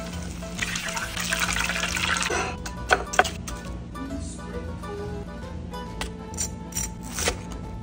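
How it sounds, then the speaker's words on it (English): Hot oil sizzles and crackles steadily as breaded pasta and mozzarella bites fry, with a few sharper pops and clinks rising briefly over the hiss. "Now fry. Hot oil."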